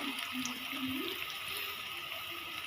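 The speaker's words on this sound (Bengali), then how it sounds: "একটু একটু পানি দিয়ে নিই" Water is poured a little at a time into a cooking pot of pond fish curry, making a faint, steady splashing and gurgling over quiet background noise.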